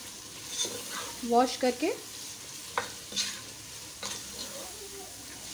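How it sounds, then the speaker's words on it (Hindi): Green chillies and masala fry in a pot for Bohra daal gosht, giving a soft steady sizzle broken by a few sharp stirring scrapes, close up, with a brief spoken phrase. "बस हल्का इसको भूनूंगी ताकि इसका जो दूसरा मसाला है सारा वो भी थोड़ा सा जो है भून जाए"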